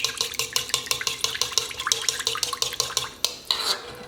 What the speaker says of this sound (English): Might be easier to whisk if you do it in, you just turn the bowl a little bit